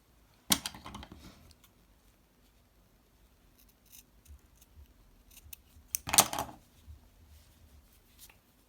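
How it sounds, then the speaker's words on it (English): Scissors snipping off loose threads on a small handmade stuffed worm toy, two sharp, close cuts several seconds apart with faint handling rustles between them. "And then you can snip them off."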